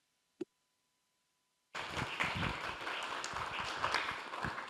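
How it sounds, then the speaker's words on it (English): A single faint click, then a sudden burst of broadband applause from a panel discussion audience that stays steady and fairly loud to the end. "Thunderous applause"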